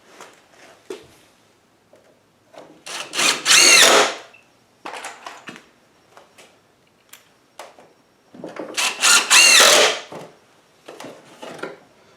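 A power tool such as a drill or driver fires in two loud bursts while tacking window framing into place on a chicken coop, with quieter knocks and handling sounds between them and no talking.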